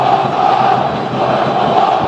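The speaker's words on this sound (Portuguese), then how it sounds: "E a torcida do Corinthians agora tenta responder." Corinthians supporters in a football stadium against Cruzeiro raise a massed, roaring chant, a dense, loud crowd drone that stays steady without any clear talk.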